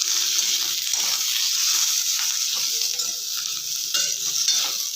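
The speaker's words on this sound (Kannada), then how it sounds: "ಚೆನ್ನಾಗಿ ಎಣ್ಣೆಯಲ್ಲಿ ಹುರ್ಕೊಳ್ಳೋಣ." Green chillies fry and sizzle in hot oil while being stirred in a pan for a North Karnataka chilli dish, a steady close hiss with scraping stirs throughout and no voices.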